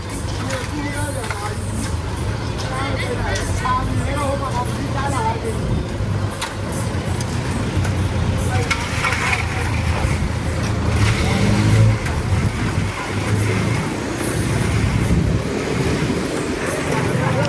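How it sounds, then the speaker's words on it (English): Cars passing along a street in Soi 94, Hua Hin, Thailand, a steady low engine and tyre rumble swelling as vehicles go by, heard beneath ongoing nearby talk. "For some reason, we've still got cars coming down this road."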